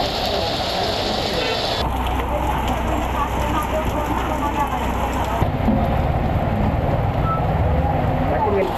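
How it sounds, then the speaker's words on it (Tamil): Heavy rain pours steadily over Thirukoilur and the surrounding area, a dense continuous hiss of downpour that holds at an even, loud level throughout with no breaks. "கனமழை பெய்து வருகிறது"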